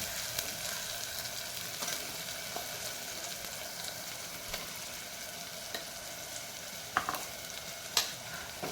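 Ground spice paste frying with tomato for a spicy chicken masala, a soft continuous sizzle with occasional light clicks and scrapes of stirring, quiet and close, no voices.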